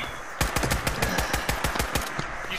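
Gunfire in the video game Fallout 76 during a nuclear winter match, a loud rapid burst of about a dozen sharp shots in quick rhythm, close and alone with no talk.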